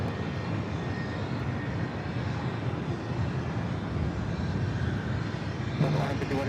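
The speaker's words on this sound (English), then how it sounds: "A330 Neo heading to JFK." An Airbus A330neo airliner at LAX airport produces a steady broadband jet engine roar at moderate distance that holds evenly throughout, with a brief louder burst near the end.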